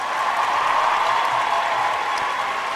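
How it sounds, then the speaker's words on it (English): A round of applause from an audience, a steady wash of clapping that holds evenly for a few seconds without cheering. "let's give a round of applause for that video"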